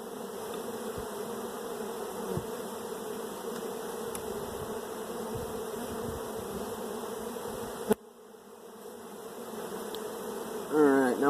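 Honeybees buzzing steadily from an opened hive box full of nectar and bee bread, a dense close drone that continues unbroken, with a brief knock partway through.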